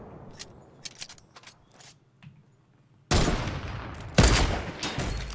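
Loud bursts of gunfire from the Fortnite battle royale video game, a few faint isolated shots followed by a sudden sustained barrage and a second heavy volley, with no talk over it.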